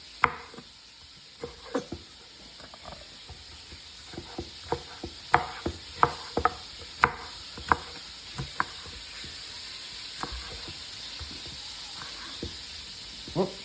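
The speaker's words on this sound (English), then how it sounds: "we're going to start chopping vegetables" Knife chopping vegetables on a board in a home kitchen, a series of sharp, close, irregular taps spaced through the clip over a faint steady background hiss.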